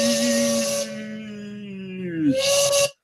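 A steam train hiss sound effect: a loud burst of broadband hiss over a steady whistle-like tone, which dips in pitch before a second brief hiss burst, then silence.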